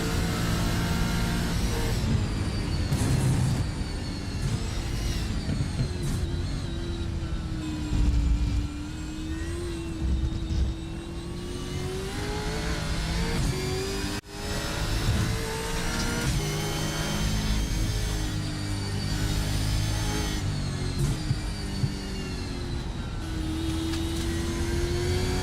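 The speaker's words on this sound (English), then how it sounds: "have a listen to the beautiful sound of the V8 Camaro" A V8 Camaro race car engine roars continuously from on board at Circuit de la Sarthe, rising and falling in pitch through gear changes and revs, loud and close throughout.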